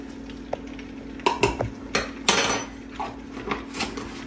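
Spoon scraping and clinking against a pot while minced garlic is stirred into melted butter, with a faint low hum behind the irregular, moderately close knocks and scrapes.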